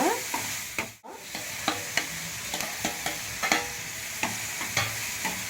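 Chopped onions with salt fry in a pan for an egg masala bonda filling, giving a steady close crackling sizzle broken by repeated scraping stirs of the spoon, with no talking.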